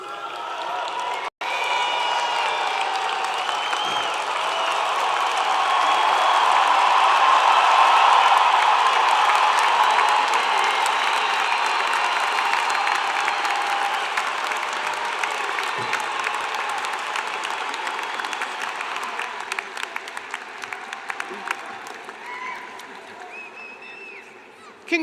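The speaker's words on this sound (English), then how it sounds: "Please join me in another giant round of applause." Sustained audience applause for graduates at a fall undergraduate commencement ceremony, a dense wash of many hands clapping that swells, holds steady for about twenty seconds, then slowly thins out, with a sharp knock near the start.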